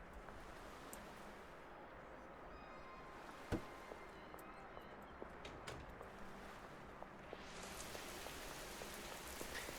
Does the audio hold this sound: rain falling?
yes